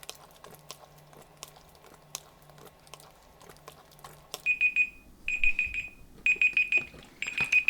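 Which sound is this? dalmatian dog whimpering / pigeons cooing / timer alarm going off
timer alarm going off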